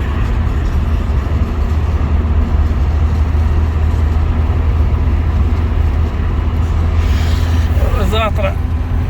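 Steady low engine drone and road rumble inside a vehicle driving through a town at moderate speed, continuous and fairly loud throughout, with a brief higher-pitched squeal or chirp near the end.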